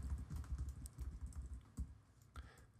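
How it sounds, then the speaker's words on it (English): Computer keyboard keys on a Mac, pressed while scrolling with the arrow keys and command key: quiet, rapid irregular clicking, close and alone, with occasional slightly louder taps. "I'm just scrolling through using the arrow keys and command"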